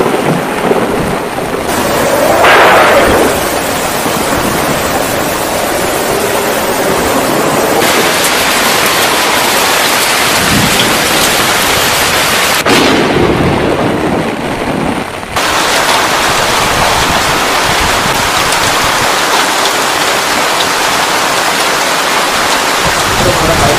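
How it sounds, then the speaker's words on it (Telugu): Heavy rain during a cyclone on the Andhra Pradesh coast, a dense continuous hiss with deep thunder rumbles, loud and close throughout the storm. "ఇప్పటికే చాలా చోట్ల ఉరుముల మెరుపులతో భారీ వర్షం అయితే కురుస్తుందని చెప్పాలి."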